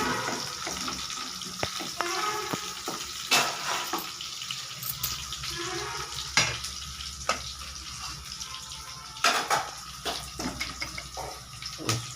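Onions frying in a pan until brown make a steady, close sizzle with a few soft clatters and stirring knocks throughout, and no one speaks.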